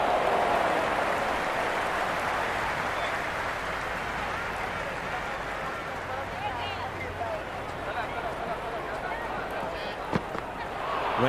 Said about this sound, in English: Will you listen to that crowd? They are loving this.